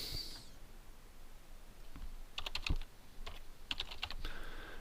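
Someone types a name on a computer keyboard, with soft, faint keystrokes coming in small clusters and pauses over a quiet room tone.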